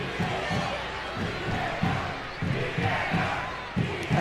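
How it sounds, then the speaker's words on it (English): Stadium crowd at a USA vs Mexico women's soccer friendly chanting VAR, a rhythmic repeated two-beat roar at steady pace, broad and distant-sounding. "Of course, the crowd are chanting VAR"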